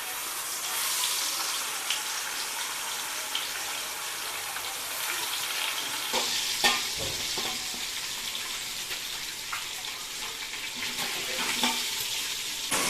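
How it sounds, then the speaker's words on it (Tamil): Marinated chicken for Arabian biryani fries in hot oil with a continuous loud sizzle and crackle. Occasional sharper pops and spatters rise above it, and no voice is heard. "ஃப்ரை பண்ணுறதுக்கு எண்ணெய் ஊற்றுறேன். இப்போ இது சூடாயிடுச்சு, ஃப்ரை பண்ணலாம்."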